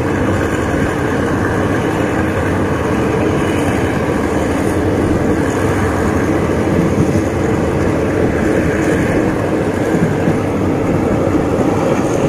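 An ordinary Thai passenger train heard from inside a carriage gives a constant loud rumble and rattle of wheels on rails, steady throughout with no talking.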